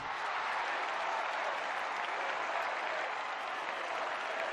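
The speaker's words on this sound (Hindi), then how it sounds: "तालियों की गड़गड़ाहट स्टेडियम की दीवारों को चीरती हुई पूरे शहर में फैलने की कोशिश कर रही थी" Thunderous applause fills a packed stadium, a steady dense roar of many hands clapping at an even loudness throughout with no voices standing out.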